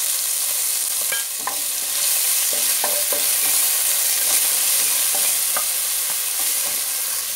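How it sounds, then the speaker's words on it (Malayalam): Ginger, garlic and shallots fry in hot oil for a fish fry masala, a steady loud sizzle with scattered spatters and occasional stirring clicks, with no voices over it. "അതിലേക്ക് നമുക്ക് ഇഞ്ചി, വെളുത്തുള്ളി, ചെറിയ ഉള്ളി മൂടിയിട്ട് ചുവന്നുള്ളി മൂടിയിട്ട് നമ്മൾ ആദ്യം ഇടാൻ പോകും കേട്ടോ."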